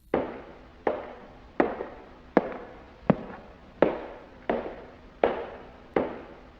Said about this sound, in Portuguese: os passos de uma pessoa andando